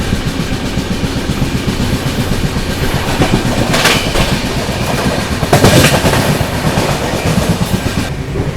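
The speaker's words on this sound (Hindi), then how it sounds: "चले यहाँ ओवरटेक कर दिया पुणे गोरखपुर वीकली एक्सप्रेस को।" The Rajdhani Express rolls past the Pune Gorakhpur Weekly Express, its wheels beating a steady, loud clickety-clack heard up close from on board, with rushing rail noise throughout and no talking.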